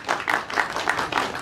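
An audience at a film press meet claps for a few seconds, a brief burst of applause from a modest crowd, fairly close and moderately loud.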